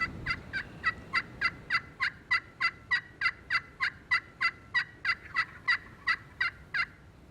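Wild turkey gobbling repeatedly during a spring turkey hunt, a rapid run of about twenty sharp, evenly spaced gobble-like calls at a steady rhythm, fairly near and clear over a quiet outdoor background.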